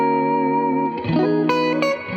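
Clean R&B-style guitar chords ring through a reverb and delay pedal with long decay and low mix, sustained tones trailing off with a soft wash, and two bright strums near the end.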